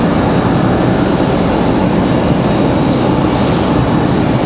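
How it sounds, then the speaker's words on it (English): A FedEx ATR turboprop coming in to land at Raleigh-Durham airport at night gives a loud, steady broadband roar that stays constant throughout, with no talk. "here comes our FedEx ATR, the last one of the night"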